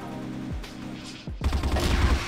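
Rapid bursts of rifle gunfire crack out loudly after a pause in CrossFire, with a low tone fading beforehand.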